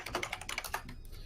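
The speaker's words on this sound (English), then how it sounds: "Is that Trixie typing?" Keys on a computer keyboard clatter in a quick, irregular run of soft clicks, faint and somewhat distant, tapering off toward the end.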